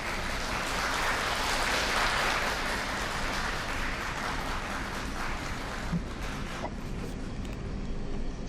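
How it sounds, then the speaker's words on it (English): An audience applauds steadily to welcome three taikonauts in a special lecture from the China Space Station. The clapping is a dense, continuous wash that fades slightly toward the end. "let's give a warm applause to welcome our 3 taikonauts"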